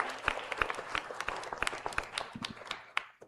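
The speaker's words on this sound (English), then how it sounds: "let us give a round of applause to distinguished panelists here," An audience applauds a panel of Nobel laureates, with fairly quiet, scattered claps from a modest crowd, individual hand claps distinct and thinning toward the end.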